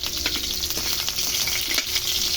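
Chopped garlic and onion fry in hot cooking oil, giving a steady, dense sizzle that holds up close and even throughout, with no voices.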